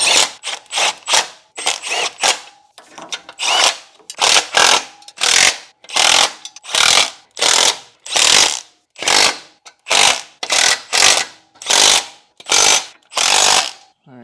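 A ratchet wrench clicks in long, loud, rhythmic bursts while tightening 10 mm 12-point clutch bolts during a transmission clutch install, with more than twenty bursts and short pauses between them.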